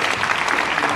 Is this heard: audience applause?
yes